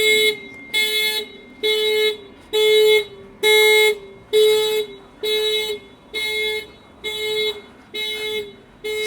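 A locked Kia EV3 sounds its horn remotely in a regular repeating pattern, eleven loud even honks with short gaps between, fairly close and with nothing else heard.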